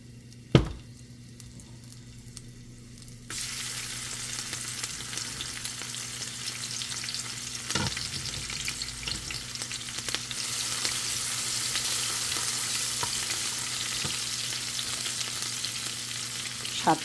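Crushed garlic and green chili hit hot oil in a pan: a sharp knock, then quiet hum until a loud continuous sizzle bursts in and carries on steadily with occasional scrapes.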